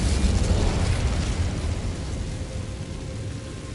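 A roaring burst of Incendio fire magic from Hogwarts Legacy, loud at the start and then tapering into a steady crackling whoosh that fades slightly over a few seconds, with no talking.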